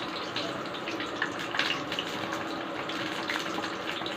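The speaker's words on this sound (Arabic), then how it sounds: "رجعت لكم تاني والزيت سخن، هحط بقى البتنجان" Eggplant fries in hot oil for moussaka, a steady dense sizzle and crackle with small pops, close and continuous with no talk.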